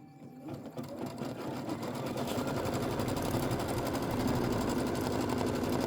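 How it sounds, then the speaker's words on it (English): An embroidery machine runs a placement stitch for a small Kimberbell bunny design. Its needle makes a steady, loud, rapid mechanical hum and chatter that continues without a break. "now it's going to do the placement stitch"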